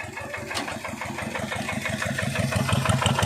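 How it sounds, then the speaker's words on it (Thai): An Ayutthaya-frame tractor fitted with a BF 105 RM engine runs steadily nearby, a loud continuous rumble with a regular low pulsing throb that grows slightly louder over a few seconds, with no talk. "เครื่องเป็น BF 105 RM ขับโดย อีบีม"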